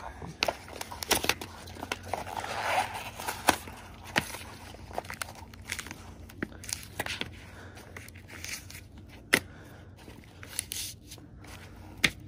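A Milwaukee Fastback folding knife slices through a cardboard egg box, giving a run of crisp scraping, crackling cuts and sharp snaps, fairly quiet and close, with pauses between strokes.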